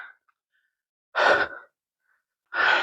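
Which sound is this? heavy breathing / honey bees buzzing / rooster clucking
heavy breathing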